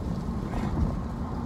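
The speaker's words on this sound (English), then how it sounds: "It's so windy," Steady, heavy wind roaring across the microphone, a continuous low rumble with gusty buffeting and no pauses.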